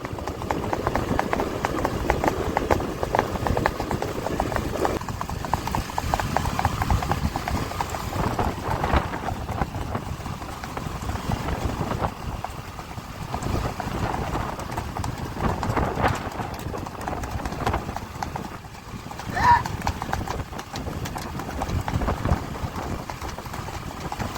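Horse hooves at a rewal chal horse race in Kutch, a steady, rapid clip-clop of trotting that runs continuously and fairly close, with a low engine hum in the background.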